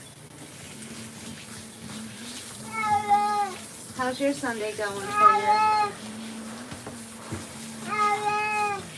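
A Maine Coon cat meows repeatedly during grooming, a run of short chirpy meows in two clusters and a final cry, close and fairly clear, over a steady low hum while a person talks softly to it.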